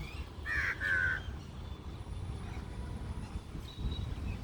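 Harsh crow-like caws from birds near a temple during the monsoon, two close loud calls early on, then fainter ones over a steady outdoor rumble.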